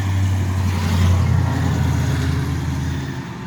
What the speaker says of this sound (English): he's got a 350 in it with a cam, and when it's just sitting there idling, that thing sounds good